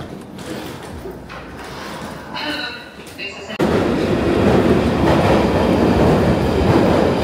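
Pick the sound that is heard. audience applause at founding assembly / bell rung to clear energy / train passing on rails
train passing on rails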